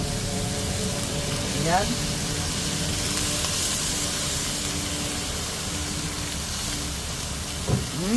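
Beef sizzles steadily in a pan after fish sauce is poured in for a Filipino nilagang baka dish, a constant hissing fry with a voice speaking briefly over it.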